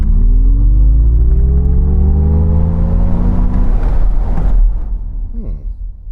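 An MG Cyberster electric open sports car whines and rises steeply in pitch as it accelerates hard in launch control mode, the motor tone climbing loudly before easing off over road rumble.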